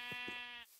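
Sheep in the blocky building game Traincraft giving a short, buzzy bleat with a strong harmonic tone, fairly faint, cutting off abruptly into near silence.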